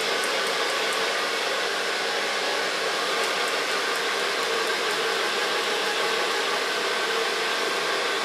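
A hair dryer blows in a salon, drying freshly cut and colored short hair with a steady loud whooshing roar that runs unbroken throughout.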